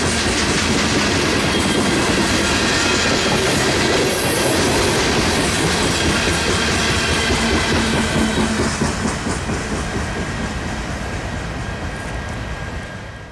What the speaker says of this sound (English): UP chose to run a relatively slow, heavy, and low-priority aggregate train through first.